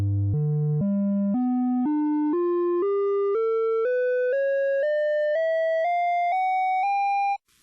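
A synthesized tone sequence starts at 100 Hz and climbs in 16 even, separate steps, each pure tone held about half a second, loud and alone until it cuts off.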